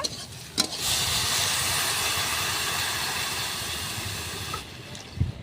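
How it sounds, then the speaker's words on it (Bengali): Water hits a hot pan right after four eggs have been fried, setting off a loud, sustained steamy hiss that slowly fades, with a few clanks at the start and end. "এখন জল দিয়ে দেব।"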